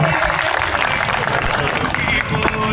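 Applause from a crowd at a political public meeting in Chikda, clapping steadily and densely throughout as a dense, unbroken roar of many hands.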